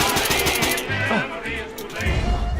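Rapid bursts of video-game gunfire in a Cartoon Cat horror game, several quick volleys of shots loud and close, with game music and effects running underneath.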